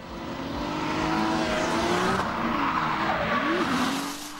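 A BMW drift car slides at speed with a long, wavering tire squeal over a strained engine roar, sustained and rising then fading slightly at the end.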